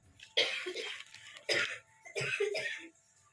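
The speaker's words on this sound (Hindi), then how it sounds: "खांसी आने लगी" Three harsh coughs in quick succession, close and fairly loud, with short pauses between bursts and no talking.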